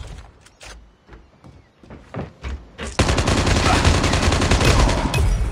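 Gunfire from the Call of Duty Mobile video game: scattered sharp single shots and clicks at first, then a dense, continuous burst of rapid automatic fire that stays loud to the end.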